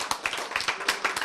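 Scattered audience clapping in a church lecture hall, a handful of sharp, fairly quick claps heard close and moderately loud, with no talking over them.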